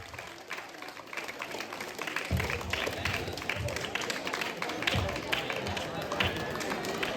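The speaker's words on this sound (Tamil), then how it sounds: "கரகோஷங்கள் மூலம் அந்த கலைஞர்களுக்கு பாராட்டுகளையும் நன்றிகளையும் தெரிவித்துக் கொள்கிறேன்" Dense, continuous applause fills the scene at a temple festival in Navali, honouring temple dance performers, with crowd noise and voices mixed in.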